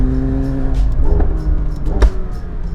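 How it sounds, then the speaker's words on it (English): A McLaren 720S with a 4-liter twin-turbo V8 idles with a low burble, then lets out two sharp exhaust pops about a second apart, close and loud. "Oh, those pops."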